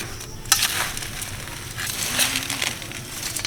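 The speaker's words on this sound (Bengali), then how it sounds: "চামচের সাহায্যে এইভাবে মাখিয়ে নেব" A spoon gently mixes crispy fried flattened rice (chire bhaja), giving a continuous dry rustling crunch at moderate volume that swells and fades slightly as it is turned.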